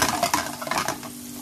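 Onion pieces drop into a hot frying pan for a spaghetti and swordfish sauce, giving a short burst of crackling sizzle and stirring noise that fades within about a second.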